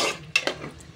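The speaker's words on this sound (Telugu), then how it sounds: "వాటర్ పోసేసి తిప్పుకొని" A spoon stirs mutton curry in a pot just after water has been poured in, with a couple of sharp scraping clinks over a soft wet bubbling, close and alone.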